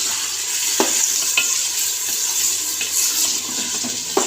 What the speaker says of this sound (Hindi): ये 1 kg बीफ है। और बीफ को हमने डाल के अच्छे से भून लेना है।